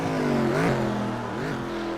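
A race car drives the Portland road course, its engine drone rising and falling in pitch as it accelerates and shifts through a lap, steady and fairly loud with no talk.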